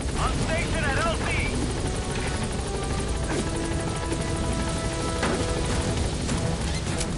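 In the video game Metal Gear Solid V, a helicopter nears a landing zone with a constant loud rotor roar, while voices speak over it.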